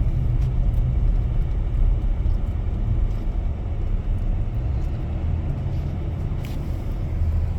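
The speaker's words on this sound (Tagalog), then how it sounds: "Sobrang traffic dito, bakit kaya?" A car creeps slowly through heavy road traffic, its engine and road noise forming a steady, loud, low rumble that never breaks, with no voices over it.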